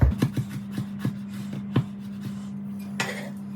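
A knife slicing peeled garlic cloves on a cutting board, giving a run of sharp taps that come about every half second, heard close over a steady background hum, with a brief rustle at the end.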